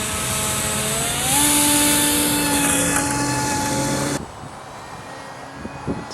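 A small RC stealth fighter plane's electric motor whines loudly and steadily, its pitch rising early on, then cuts to a quieter, breezy outdoor background for the last couple of seconds.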